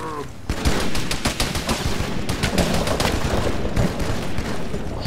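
Gunfire in a firefight in the military shooter ArmA 3: dense, rapid bursts of automatic fire crackle loud and near, blending into sustained volleys with no pause, and no voices are heard.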